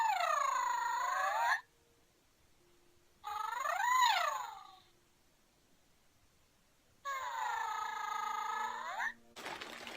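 A pygmy puff plush toy from the Wizarding World of Harry Potter lets out three loud, close, warbling electronic cries that sweep up and down, with silent gaps between them.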